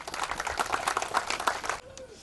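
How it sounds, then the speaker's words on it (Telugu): An audience clapping loudly, a brief dense burst of applause that fades out after about two seconds, with a voice speaking over it. "ఒకసారి గట్టిగా చప్పట్లు కొడదామా?"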